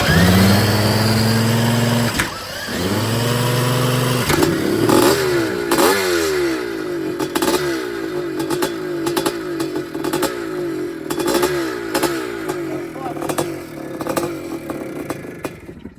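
A 1981 Maico two-stroke motorcycle engine starts up loud and close. It catches after a brief sputter, then revs repeatedly in sharp, rising bursts with clattery, buzzing exhaust.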